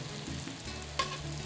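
Steak sizzles in a cast iron pan for fajitas: a steady, close hiss with one brief sharper spurt partway through, alone and without talk.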